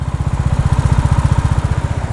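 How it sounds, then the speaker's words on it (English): Royal Enfield Bullet motorcycle engine idling steadily, its rapid even thump carrying a clattering buzz on top, close and loud throughout. "I think there's kind of a clattering buzz on top of the noise of the engine"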